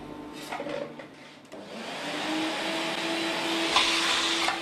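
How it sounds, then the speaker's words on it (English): HEPA filter vacuum cleaner running steadily with a rising whine as it clears dust and debris from a circular saw table, loud and close, with no talk. "Clear the circular saw table of any debris and dust using the HEPA filter vacuum cleaner."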